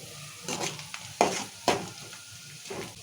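Chopped onions frying in a pan for a chicken curry, giving a soft continuous sizzle with a few louder stirring scrapes, close by and with no voices.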